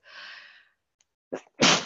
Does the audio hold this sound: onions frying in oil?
no